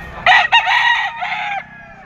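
A two-year-old gamefowl rooster of sweater over Golden Boy bloodline crows once, close and loud, a strained multi-part call lasting about a second and a half before trailing off into quiet.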